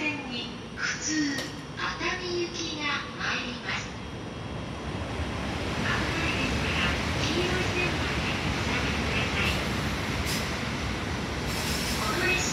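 A JR E231 series local train bound for Atami pulls into a station platform, a steady rumbling wash of wheels and motors that swells and holds, while a platform announcement voice talks over it at the start.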